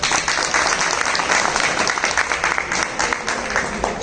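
Loud audience applause at a motivational business gathering in India fills the whole stretch, dense and steady with a few sharper claps standing out, and no voice over it.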